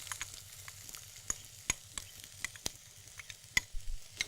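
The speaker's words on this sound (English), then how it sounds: "We're just going to saute those onions, are we?" Finely chopped onions sauté in hot oil for a vegetarian dish, giving a quiet, steady sizzle broken by sharp clicks and taps of stirring, alone with no voices.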